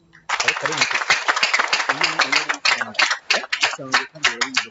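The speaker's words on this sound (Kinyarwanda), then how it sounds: "Nabasaba ko mubamira amashyi cyane." An audience at a graduation ceremony claps, a dense patter of applause with voices talking over it and uneven bursts toward the end.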